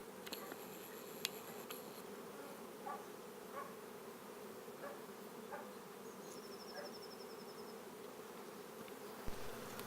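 Honey bees drone in a dense, continuous hum while a nuc is moved into a beehive, the buzzing close and steady throughout, with a few faint clicks and small knocks of handling.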